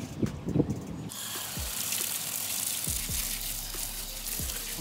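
Water pours and splashes into a mix of concrete being stirred for setting a mailbox post outdoors, a steady rushing hiss after a few scraping knocks, with no talk.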